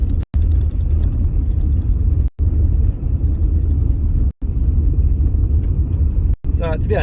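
A car drives along a gravel road with its windows up, giving a steady, loud low rumble of tyres and engine, broken by a few short dropouts.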